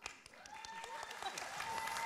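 Studio audience clapping on a Filipino TV game show, a rapid patter of hands building from sparse claps to fuller applause, with a host's voice heard over it.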